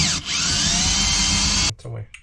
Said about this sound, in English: Let's drill another hole in the new bench.